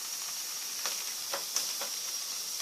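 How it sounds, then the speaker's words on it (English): A beef dinner MRE steams on a Russian IRP stove, a steady close hiss with a faint high whistle and a few small pops and sputters over it. "Steaming away there like a friggin' train."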